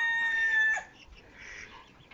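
A rooster in a sunny village yard crows once, a loud, sustained, strained call near the start that cuts off abruptly, leaving quieter yard ambience afterward.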